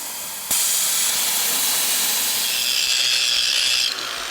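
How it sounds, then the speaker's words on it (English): A plasma cutter slices old motor mounts off the frame of a '66 Bronco, starting with a sharp pop and holding a loud, steady hiss for about three seconds before cutting out. "Out comes the plasma cutter."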